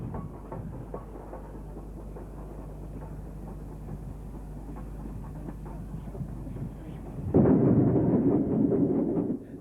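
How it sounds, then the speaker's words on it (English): Steam train on a gradient, banked from the rear by a Standard Class 4 locomotive, number 76043, a steady rumbling chuff of wheels and exhaust that surges much louder near the end as the engine draws close. "This train was being banked by Standard Class 4, number 76043"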